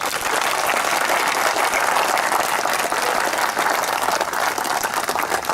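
Loud, continuous applause from an audience at a spiritual talk, thick clapping held at an even level throughout with no voices on top.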